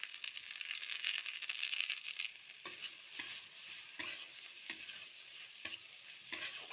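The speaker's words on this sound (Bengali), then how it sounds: "এটাকে এখন নাড়াচাড়া করবো" Carrots with orange and yellow colouring sizzle steadily in a frying pan while a spatula scrapes through them in regular sharp strokes, close up, with no talking.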